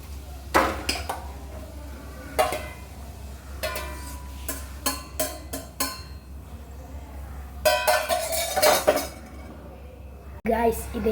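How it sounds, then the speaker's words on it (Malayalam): Maggi noodles being moved from a pan onto a plate, with repeated clinks and scrapes of utensil on metal and plate, some in quick bursts, over a low background hum with occasional talk. "ഞങ്ങൾക്ക് ഓഫ് ചെയ്ത് ഇതിനെ ഒരു പ്ലേറ്റിലോട്ട് ഇടാം."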